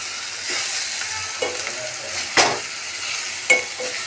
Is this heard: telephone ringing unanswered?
no